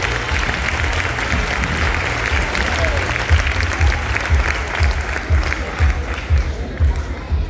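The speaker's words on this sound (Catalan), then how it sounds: "Fort aplaudiment" Warm applause at a village festa major prize-giving, a crowd clapping steadily and loudly for the whole stretch, with a few sharper claps standing out toward the end.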